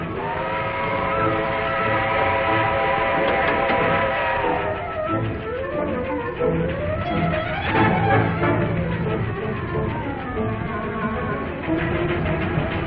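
A steam train in a 1940 film serial runs along the track, its whistle sounding loudly at first, then chugging and rumbling on with a wavering tone.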